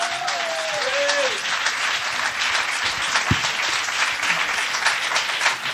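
A church congregation breaks into sustained, lively applause, many hands clapping densely at moderate volume, with a brief sung or spoken tone at the start and scattered shouts in the crowd.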